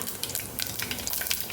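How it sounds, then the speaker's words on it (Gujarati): Cumin seeds sizzle in hot oil for Kathiyavadi mung bean curry, following cloves and mustard seeds, with a steady, close crackling hiss and brief sharp pops throughout. "થોડું જીરું ઉમેરશું."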